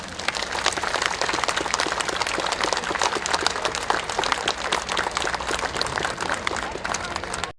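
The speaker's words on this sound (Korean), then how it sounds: "여기 계신 가족들을 위해서 박수를 좀 부탁드립니다" Large outdoor crowd at a candlelight vigil for Sewol ferry victims applauding the victims' families, loud, dense clapping from many people that continues throughout and cuts off abruptly at the end.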